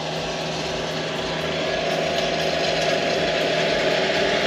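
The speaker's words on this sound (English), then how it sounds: "There's a tractor coming." A tractor engine drones steadily on a calm coastal day, a continuous low rumble at moderate volume that holds evenly throughout.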